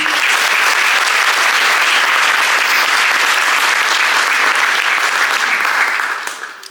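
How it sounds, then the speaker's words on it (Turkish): Loud, sustained audience applause at a Uğur Dündar book launch for "Sevdamız Fenerbahçe" in Germany, a thick wash of clapping holding steady for several seconds before tapering off at the end. "Kocaman bir alkış alabilirim."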